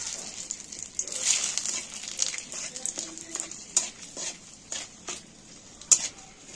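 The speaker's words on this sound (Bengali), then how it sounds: "এই তেলের মধ্যে একটা তেজপাতা আর একটা শুকনো লঙ্কা দিয়ে দিচ্ছি।" A bay leaf and a dry red chilli hit hot oil in a pan for a fish egg recipe, giving soft crackles and scattered sharp pops over a low sizzling hiss, nearby and fairly quiet.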